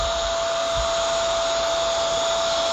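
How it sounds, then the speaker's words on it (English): A Bissell 2998 vacuum cleaner with a turbo pet eraser tool attached runs steadily, a loud continuous motor whine and airflow rush with a steady high tone, heard alone without talk. "Now power on the vacuum."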